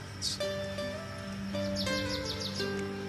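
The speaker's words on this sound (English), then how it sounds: "if you listen long enough, you have birds, you hear bugs, wind" Birds in a Maui hillside forest give a few faint, brief chirps and a quick run of tweets over a steady low background hum, with no talking.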